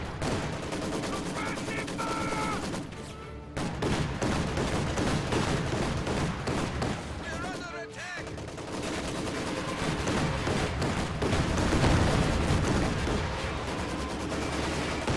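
A Maxim machine gun and a Panzer II trade fire in a video game battle, with dense, continuous bursts of gunfire and heavy impacts filling the mix and only two brief lulls.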